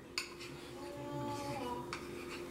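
Spoon scraping peanut butter from the sides of its container into a bowl, giving a few brief scrapes and light clinks, close and fairly quiet with no talking.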